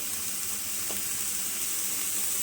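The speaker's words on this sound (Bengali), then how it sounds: "এবার আমি এর ওপর থেকে ঘি দিয়ে দিলাম।" Ghee hits cooked colocasia greens in a hot pan, giving a steady close sizzle and hiss throughout.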